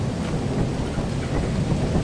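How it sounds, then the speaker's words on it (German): A thunderstorm in the video game Lethal Company, a steady dense roar of heavy rain with a deep rumble of thunder underneath, filling the whole scene without pause and with no talking. "Oh, Gewitter."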